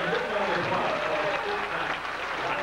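Banquet crowd at a speedway racing awards night applauds in a steady, dense round of clapping, with some voices mixed in underneath.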